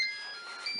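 A Cookeo multicooker gives a few short, high electronic beeps while its cooking time is set, faint and close against a quiet hiss.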